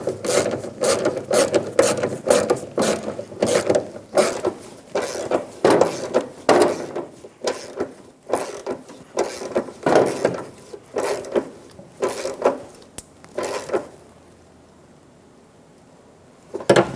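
Installing a bolt and fuel tank straps under a 2000-2007 Ford Focus during a fuel pump replacement, a run of close ratcheting clicks and scraping metal rubs, pausing briefly near the end before one last click.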